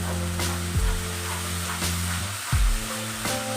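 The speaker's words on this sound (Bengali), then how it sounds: "টমেটো আমরা চারটে দিয়েছি সেটাও আমরা এর মধ্যে দিয়ে দিচ্ছি দিয়ে আমরা নাড়াচাড়া করতে থাকবো" Tomatoes and spices fry in a pan for a vegetarian potato curry, a continuous close sizzle broken by a few scraping stirs of a spoon, with no talking.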